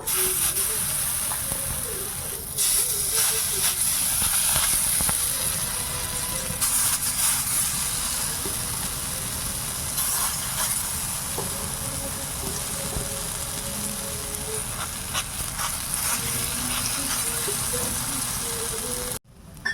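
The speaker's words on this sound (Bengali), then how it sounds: "এগুলোও ঠিক এরকম করে ভেজে নেব।" Sesame fritters (tiler bora) frying in hot oil in a village kitchen, a steady close sizzle and hiss running throughout, with a voice talking over it at times.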